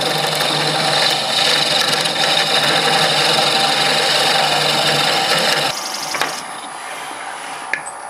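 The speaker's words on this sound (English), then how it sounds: "I have a 3/4 inch drill bit chucked up in my tailstock because I need to make a 3/4 inch hole right through this jig." A lathe runs steadily as a 3/4 inch tailstock drill bit bores a hole through a wooden jig, a dense whirring machine drone that drops off and quiets near the end.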